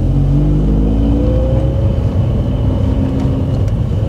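Rotary engine of a Mazda RX-8 fitted with a Borla muffler, a steady loud rumbling drone that climbs slightly in pitch as it revs, continuous with no voices.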